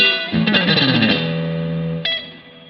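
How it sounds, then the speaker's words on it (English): Electric guitar on a Harley Benton DNAfx GiT Pro's spring reverb setting: a strummed chord and quick notes smearing into a shimmering tail, then a second bright pluck that rings out and fades, unaccompanied. "There's definitely a thing that a spring reverb does that can't quite do."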